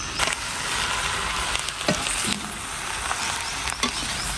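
Stuffed chillies with masala fry in a pan, a steady close sizzle with scattered pops and crackles throughout.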